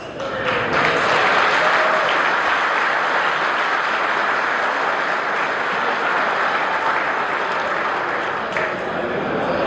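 Sustained audience applause at a company's 30th anniversary celebration, a dense steady wash of clapping that stays loud for the whole stretch before easing slightly near the end.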